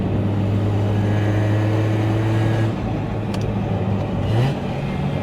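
A Mazda RX-7's carbureted engine drones at a steady pitch, then the revs drop and rise again in a short burst, loud and close.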